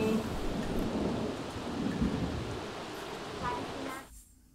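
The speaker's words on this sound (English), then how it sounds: "already the thunder is trying to kill the expecting mother" In The Sims 3 video game, a thunderstorm plays with a deep rolling rumble of thunder over steady rain. Faint background game sounds sit underneath, and the storm cuts off abruptly near the end.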